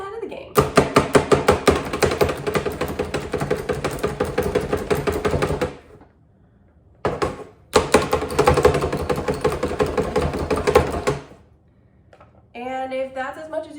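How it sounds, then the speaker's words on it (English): Rapid, steady knife chopping of an onion on a cutting board, two long runs of quick even taps close by, separated by a pause, with a voice at the end. "level 1 prep is chopping an onion"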